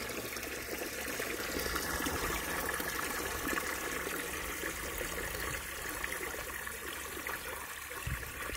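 Water pouring steadily into a drum in a vegetable garden where pak choy and lettuce are irrigated, a continuous soft rushing trickle heard alone at low level for several seconds.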